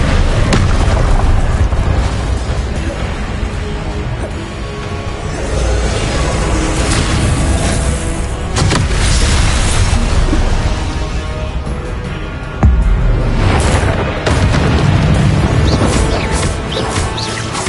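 Confringo explosive spells from Hogwarts Legacy go off in repeated loud booming blasts and crashes, dense and continuous with sharp impacts, the sharpest near the end, with no talk over them.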